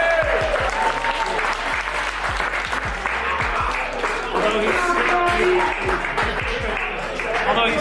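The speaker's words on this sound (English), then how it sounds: "We're going to give George a round of applause." A restaurant crowd applauds a diner named George after his hot dog eating challenge in Ohio, with steady, close clapping under cheering voices and talk throughout.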